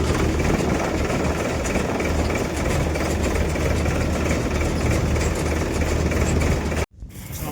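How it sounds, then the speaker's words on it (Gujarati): A pressure washer motor runs steadily and loudly while a tractor and its trailer are washed during servicing, a constant dense drone that continues unbroken for about seven seconds before cutting off abruptly. "હવે મોટર ચાલુ કરી દીધી છે અને પ્રેશર મશીન છે અહીંયાથી ધોવે છે."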